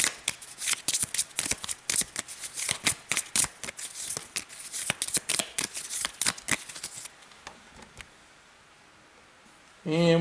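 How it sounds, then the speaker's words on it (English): Playing cards from a solo board wargame deck riffle and snap in quick repeated bursts close by, then the shuffling stops and goes quiet before a brief sound at the end. "And now we shuffle. Pull everything up here real good."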